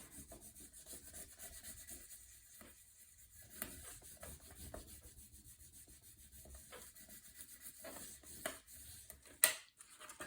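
Folded paper pages of a mini album are burnished with quiet, steady rubbing and scraping strokes, close and faint, with one sharper tap near the end and no speech.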